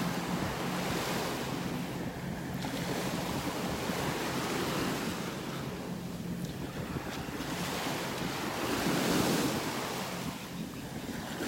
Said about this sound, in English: It's just been really rough out in the Gulf, and we've been getting a lot of waves